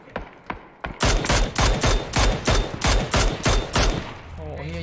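Gunfire in the battle royale game PUBG: a couple of distant shots, then a loud rapid string of about ten evenly spaced shots up close, with someone speaking Thai under and after.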